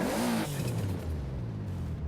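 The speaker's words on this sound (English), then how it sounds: "the additional turbo spool also sounds really great" A Toyota Supra RZ engine in Forza Horizon 4 revs and settles into a steady low drone, with a rising turbo-spool whine in the first moments; continuous and fairly loud, no voices.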